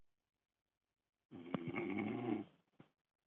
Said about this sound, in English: I can hear someone snoring.